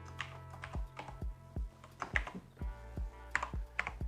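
Typing on a computer keyboard while entering a Wi-Fi name, a run of irregular close key taps with brief clusters and pauses, quiet and alone without speech.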